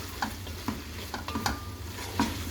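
Sliced yellow bell peppers and onions frying in a pan for hakka noodles, a close steady sizzle broken by several quick stirring scrapes and clinks, no voices.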